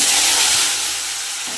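Steamed potato and cauliflower tipped into hot oil with dried red chilli, whole cumin and bay leaf for a vegetarian curry, giving a loud, steady, close hiss of sizzling that eases slightly toward the end.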